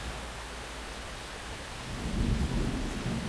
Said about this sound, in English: Then a roll of thunder shook the walls and scared the monkeys out of the kitchen. The rain began to fall in buckets as Judy took the dice.